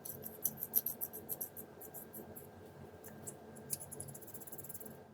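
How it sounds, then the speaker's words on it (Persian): Two Moser hair clipper blades rubbed against each other, the fixed blade scraping, make faint, irregular scratchy clicks and rasps, quiet and close, in bursts with short gaps. "حالا دو تا تیغه رو روی هم میذارم تا ببینم چقدر با هم استکاک دارن."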